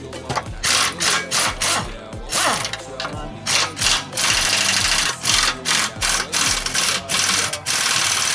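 A power tool loosens the four bolts holding a vehicle's steering in place, loud close bursts of rapid rattling hammering separated by short pauses, one longer sustained run in the middle.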